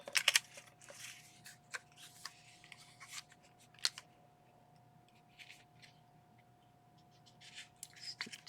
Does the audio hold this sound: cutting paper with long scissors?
yes